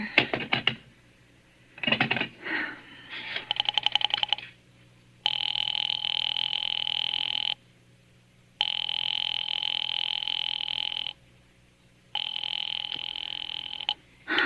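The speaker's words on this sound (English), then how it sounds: "I've been dialing Murray Hill 70093 now for the last 3/4 of an hour, and the line is always busy" Rotary telephone dialing clicks followed by a repeating busy-line tone, steady tone bursts separated by short gaps, in a 1943 radio drama; loud and alone with no talk.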